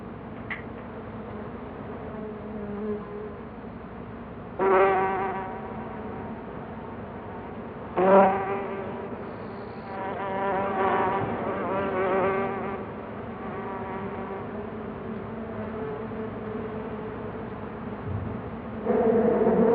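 Bees buzz in a steady, close hum around alfalfa fields, with several louder swells as insects pass near, continuous and alone without talk.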